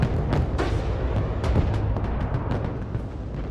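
Artillery fire and explosions in the war game Broken Arrow: a dense, continuous roar of booms and blasts with repeated sharp impacts, loud and close throughout, with no pauses.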